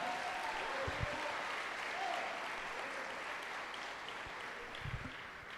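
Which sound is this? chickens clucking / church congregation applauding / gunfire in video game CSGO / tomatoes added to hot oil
church congregation applauding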